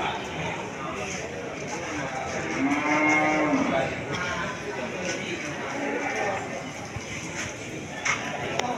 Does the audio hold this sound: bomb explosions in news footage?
no